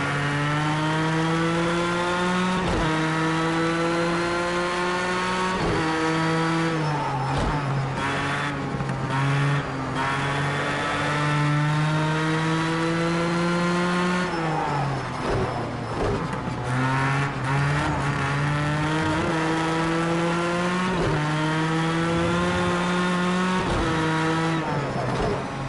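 Race car engines howl continuously on a track, one car's revs climbing and dropping through gear shifts with another car, a BMW, running close behind, loud and near with no talking.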